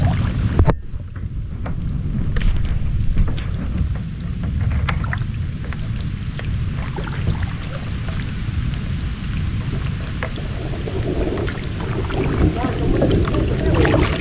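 Steady rain pours down in a dense, continuous hiss with a low rumble underneath, loud and close throughout.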